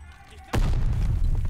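A single sudden grenade blast in Call of Duty: Vanguard, a sharp crack that swells into a loud, sustained low rumble, with faint speech before it.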